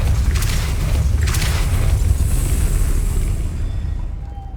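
A Depulso spell is cast in Hogwarts Legacy, giving a loud, deep whooshing boom with a brief burst at the start, then a rumble that fades away over several seconds.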